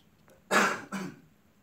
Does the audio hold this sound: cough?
yes